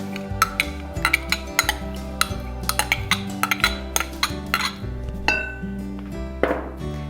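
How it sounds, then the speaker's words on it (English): A metal spoon scraping melted butter out of a bowl while making cookies, giving a run of quick, sharp clinks and taps against the bowl over steady background music. "I like to scrape it with a spoon just to make sure all that butter is out"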